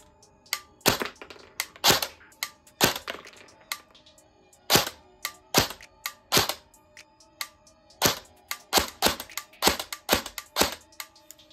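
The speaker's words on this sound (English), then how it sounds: "This gun sounds amazing to be stock like this." A Colt CQBR M4A1 airsoft rifle fires semi-automatically, firing sharp, crisp single shots in irregular bursts and pairs, close and loud, with a mechanical snap on each trigger pull and short gaps between strings.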